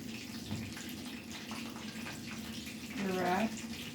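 Water runs from a tap to moisten a wrap for shrimp appetizers, a soft, steady trickle with a brief louder gush near the end, under low background noise.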